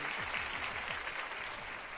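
Steady applause from a TV studio audience, a dense wash of clapping that holds at an even level throughout.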